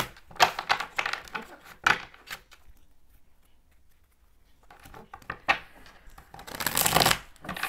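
Tarot cards being shuffled by hand in bursts of riffling and rustling near the start and again toward the end, with a quiet pause in between; no talk.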